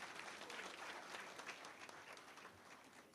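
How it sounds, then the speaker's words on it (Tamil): Sustained audience applause fills a live political rally in Tamil Nadu, dense and steady throughout with a crowd roar beneath, fairly distant and faint overall. "நல்ல கைத்தட்டல் தாங்க."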